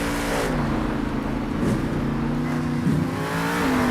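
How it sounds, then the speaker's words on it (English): A monster truck engine in Monster Jam Steel Titans 2 keeps running after a hard landing: a loud, continuous low rumble that wavers in pitch, set against a wash of broad noise. "the truck is still running"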